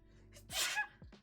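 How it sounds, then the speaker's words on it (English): A single close, loud sneeze from a person, with a short sharp intake before it and a quieter breath after. "My nose, I have to sneeze."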